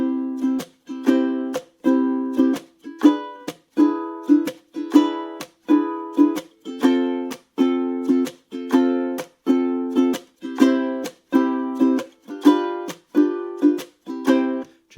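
A ukulele is strummed in a steady rhythm with muted percussive chucks on beats 2 and 4, producing evenly spaced chord bursts that repeat clearly and closely for about fifteen seconds with no talking.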